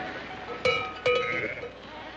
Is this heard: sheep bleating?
yes